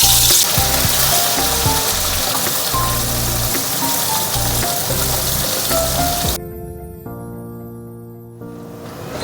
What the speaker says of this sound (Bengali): চলুন তাহলে মাছগুলো ভেজে নিই।